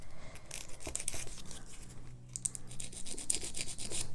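An acrylic-prep nail file rasps the shine off nails on a silicone practice hand, a steady run of quick, close back-and-forth strokes with no talking over them.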